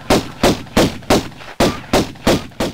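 Gunshots fire in the video game Tomb Raider as a steady series of about eight loud, evenly spaced blasts, each with a short booming tail.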